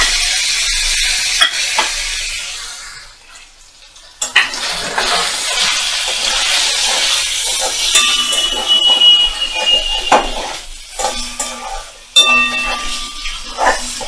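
Coconut paneer frying in a pan, a loud broad sizzle with stirring scrapes and a few utensil clinks against the pan, the hiss briefly dropping low before surging back.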